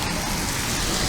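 Steady heavy rain during the Japanese monsoon, a dense continuous hiss of drops on surfaces with no pauses.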